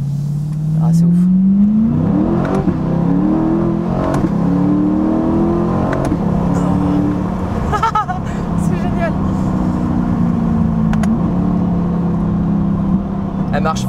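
A Corvette C8 sports car with about 500 horsepower and aftermarket modifications accelerates hard in manual mode, its engine note rising and sweeping through gears, loud and close from inside the cabin while someone talks over it.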